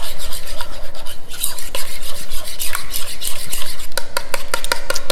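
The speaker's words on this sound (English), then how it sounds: "I'm just mixing this well" Batter for zucchini apple muffins being stirred by hand in a bowl: close, continuous wet scraping and sloshing strokes in an uneven rhythm, with sharper clicks toward the end and no talking.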